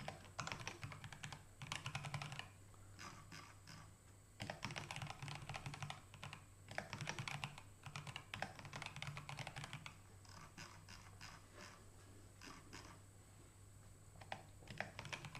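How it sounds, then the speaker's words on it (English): Someone types on a computer keyboard in quick, irregular bursts of clicking keys with short pauses, close and quiet, no talking. "As we go, I get lazier and lazier with how I type out the headings."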